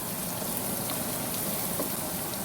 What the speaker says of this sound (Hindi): 1 से 2 मिनट फ्राई करेंगे, बाकी फिर इसमें मसाले डालेंगे।